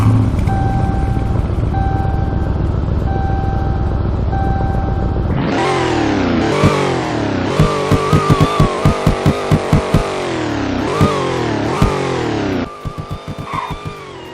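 Dodge Durango SRT Fury engine in the Roblox Greenville video game, a steady low idle with faint repeating beeps, then loud, close revving in repeated rising bursts and a final drop back down.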